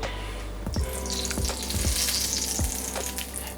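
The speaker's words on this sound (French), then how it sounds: "Et ensuite, on va directement saisir la viande." Meat sears in hot olive oil in a pan for a Thai-style stir-fry, a loud, steady sizzle with a few scraping stirs, close and without talk.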